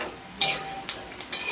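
Grated coconut dry-roasted in a pan until reddish, with a spatula scraping and stirring in three or four distinct sweeps over a soft steady background, close and alone.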